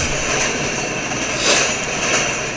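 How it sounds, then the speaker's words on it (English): A big CN mixed freight train led by three CN locomotives passes fairly fast, a loud continuous roar of wheels and cars swelling and easing as it goes by. "That's a big train."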